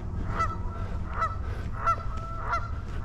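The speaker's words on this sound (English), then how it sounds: "Noisy geese." Geese at a marshy pond beside a wooded park trail give four evenly spaced honks at middle distance over a steady outdoor background hum, with no talking.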